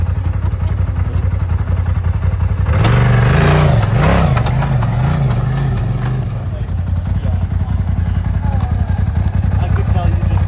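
Engine of a 2022 Polaris RZR Turbo R side-by-side during belt break-in, a steady close drone that surges into a wavering rev around the third to sixth seconds, then settles back, with voices talking over it.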